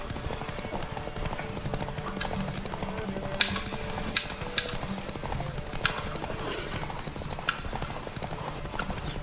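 Rapid clip-clop of horse hooves galloping steadily in The Witcher 3 video game, with a few sharp clacks and a faint whinny, under a busy game background with no speech.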